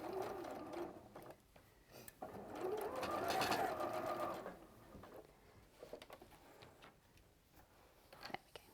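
A sewing machine stitches back over a quilt seam in short bursts, its quick rattling run clear and close against a quiet room, stopping and starting with brief pauses.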